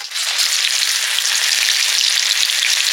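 Jute leaf fritters frying in hot oil in a wok, producing a dense, continuous close-up sizzle of bubbling oil with no voices.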